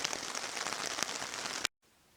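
Steady rain pattering on a tent overhead at a lakeside wilderness campsite, a dense continuous hiss that cuts off abruptly into near silence.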